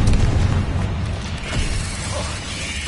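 A Bombarda blasting spell cast in a Harry Potter video game, heard as a short, heavy booming burst with a rumbling low-end tail, loud and close.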